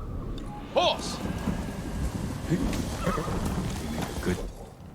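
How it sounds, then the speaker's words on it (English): A horse whinnies in the video game Ghost of Tsushima, a short close neigh rising over steady rain and rumbling storm ambience, with faint hoof movement afterward. "Horse!"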